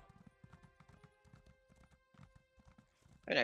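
Horse hooves clip-clop in Elder Scrolls Online, a quick even rhythm of mid-close steps over a faint game music drone, ending with a sudden louder burst.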